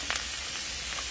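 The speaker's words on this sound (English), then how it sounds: "I saute onions and peppers" Onions and Italian sweet roasted peppers sauté in a pan over a fireside chulha, giving a steady close sizzle with faint stirring scrapes and no voice.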